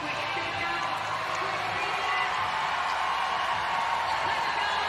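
A large arena crowd at the CrossFit Games roars in a steady, sustained wash of cheering and whooping, far-off and broad, with a commentator's voice running over it.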